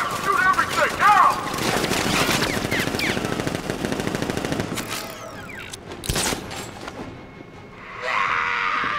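Gunfire in the video game Batman Arkham Knight: dense, loud bursts of automatic fire mixed with shouting and chaotic combat noise, thinning out toward the end.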